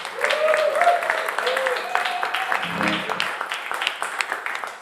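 A live-radio concert crowd claps and applauds steadily, loud and close, with cheering voices mixed in before the clapping thins out.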